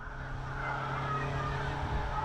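An ailing race car engine runs on the back straight of an oval raceway, a rough, droning mechanical tone with a faint whine, fairly distant under a continuous noisy background.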